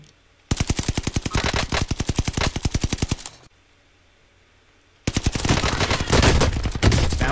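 Automatic gunfire in a multiplayer shooter video game rattles in rapid, evenly spaced bursts, stops for a moment of near silence, then resumes as a denser, heavier barrage.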